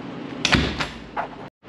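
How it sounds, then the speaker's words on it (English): A small hidden door in a budget Cancun Airbnb is opened, giving a few short knocks and scrapes of wood and a latch, close and loud, before a sudden cut to silence. "Got a little hidden door in here."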